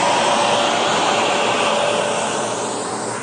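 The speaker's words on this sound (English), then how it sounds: "This vacuum cleaner can suck up anything out of your car" Jim Coleman industrial car vacuum system, built to run eight vacuum cleaners at once, roars with a loud, steady, broadband rushing whine that eases slightly toward the end, with no talk.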